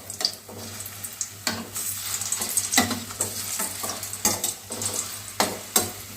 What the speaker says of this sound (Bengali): তাই জন্য আমরা মিডিয়াম টু লো ফ্লেমে বড়াগুলো, এই কোপ্তাগুলোকে ভেজে নেবো